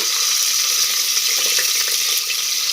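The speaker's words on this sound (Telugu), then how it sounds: "కట్ చేసుకుని పెట్టుకునే కూరగాయ ముక్కలను అయితే ఇప్పుడు ఆయిల్లో వేసేసుకుని వేయించుకుందాము" Drumstick vegetable pieces for sambar frying in hot oil, a dense, continuous hiss of sizzling with faint crackles, loud and close, with no voices.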